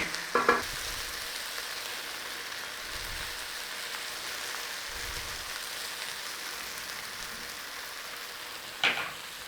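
A pan of leeks cooks low and slow, giving a soft, even sizzle held close throughout, with a couple of brief sharper clinks at the start and near the end.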